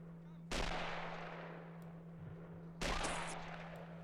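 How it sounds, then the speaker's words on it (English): In the WW2: Arena game, two sharp K98 rifle shots crack loudly about two seconds apart, each tailing off into a long decaying rumble over a constant low hum. "A couple of K98 bullets are whizzing by here, trying to hit some of the PARAS behind this wall."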